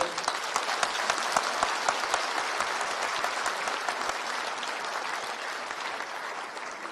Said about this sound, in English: Let's give a big applause for them.